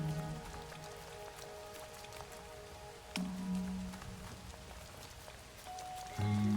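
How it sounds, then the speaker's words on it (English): Rain pattering steadily in a video game with pretty colour schemes, a soft continuous wash of drops under low game music, with brief tonal swells partway through and again near the end. "It's raining."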